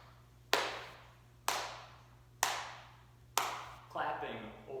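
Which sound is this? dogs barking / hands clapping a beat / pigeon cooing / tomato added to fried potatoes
hands clapping a beat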